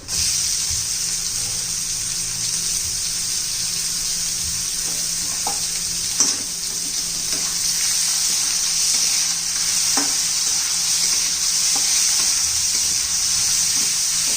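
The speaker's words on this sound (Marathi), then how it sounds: "आता टोमॅटो घालून घेऊ." Chopped tomatoes sizzle steadily alongside softened onions and a pinch of asafoetida in a pan for a spinach and green pea curry, a constant loud frying hiss with a few faint clicks of stirring and no talking.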